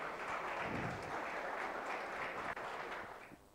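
Steady audience applause at a project competition prize distribution, dense and continuous clapping that holds evenly before thinning out near the end.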